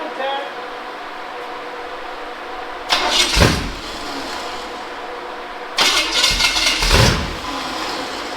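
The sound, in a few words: small block Chevy engine starting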